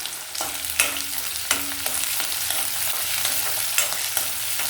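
Curry leaves fry in hot oil in a pan for avarekalu uppittu, giving a continuous close sizzle broken by several sharp scraping stirs of a spatula.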